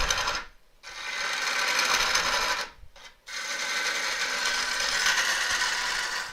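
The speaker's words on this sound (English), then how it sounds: "So I'm back to using the 45-degree half-inch gouge, just to take a little bit more of the stock away" A 45-degree half-inch gouge cuts an elm burr on a wood lathe, giving a continuous loud rasping, scraping roar that stops briefly twice as the tool lifts off, then resumes.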